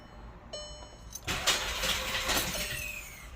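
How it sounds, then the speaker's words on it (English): A Volkswagen Golf GTI engine cranks without catching, giving a steady broad mechanical churn that sounds uneven and lacks a firm rhythm. It starts after a brief click, plays alone at moderate loudness, and holds for over two seconds. "Sounds like there's no rhythm when you're trying to start her up."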